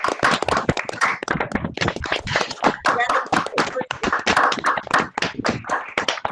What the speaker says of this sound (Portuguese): nós demos mais uma vez uma salva de palmas à professora